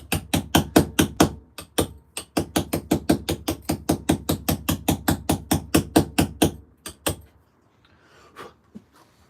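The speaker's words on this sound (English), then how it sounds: "it is quite aggressive chiselling tonight because obviously we're moving some material" A chisel hammered hard into stone, heavy material being removed, in a fast, steady run of loud close metallic strikes lasting several seconds before stopping, followed by quiet handling noise.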